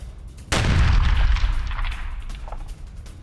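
An FPV drone strike destroys a Russian tank in the Russia-Ukraine war: a sudden loud blast after a brief quiet lead-in, followed by a deep rumbling roar that slowly fades over a few seconds.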